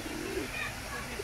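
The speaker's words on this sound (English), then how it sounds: "These are pigeons courting in Leamington Spa, Warwickshire, United Kingdom." Pigeons courting by the water in Jephson Gardens, Leamington Spa, giving soft low coos heard close by against a light outdoor background hum.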